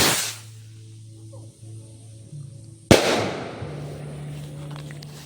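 A Higad Thunder test-pack firecracker, lit with a stick, bursts in one sharp, loud crack partway through, after a quiet stretch with a faint fizz and low hum, and the bang is followed by a lingering crackly tail.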